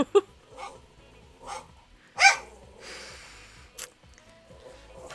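A small dog barks and yips in short separate bursts, several sharp barks with whimpering between them, fairly close in a quiet indoor room.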